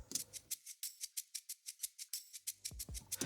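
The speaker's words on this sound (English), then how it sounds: "Number one was a shaker" A shaker loop from Splice: a fast, steady run of bright, crisp shakes in an even rhythm, with low thumping drum hits joining near the end, close and without voices.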